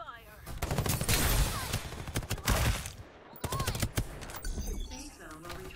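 Bursts of automatic gunfire in the video game Farlight 84, loud rapid shots in clusters with short gaps, game voices and effects layered over the firing.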